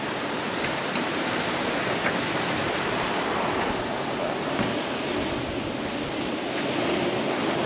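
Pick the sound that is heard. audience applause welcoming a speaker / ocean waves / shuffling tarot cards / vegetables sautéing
ocean waves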